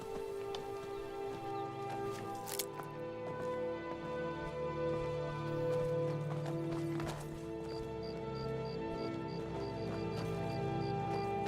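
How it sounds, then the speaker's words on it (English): Cloven hooves clopping behind the player in Skyrim, a steady stream of soft hoof steps beneath ambient game music and tones, moderately faint and with no talking. "I can hear the delicate sound of cloven hoofed feet behind me."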